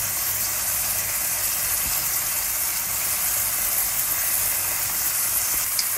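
Beef sizzling steadily in a hot pan with garlic and salt, a dense continuous frying hiss close by with faint stirring scrapes and no voices.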